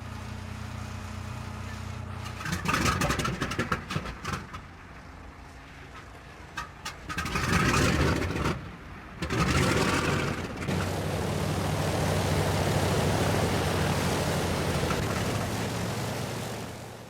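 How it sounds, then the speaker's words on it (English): B-29 bomber engines running smoothly after repairs, a sustained heavy engine roar that swells and dips in intensity with occasional louder surges, close and loud. "the engines are running smoothly and the oil leaks have been eliminated"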